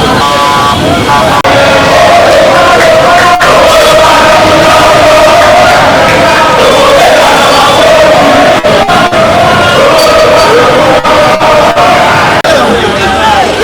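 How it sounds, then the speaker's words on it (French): A large outdoor crowd at a political rally cheers and acclaims in a continuous loud roar of mixed voices, shouting and babble that fills the whole stretch without pause. "On acclame."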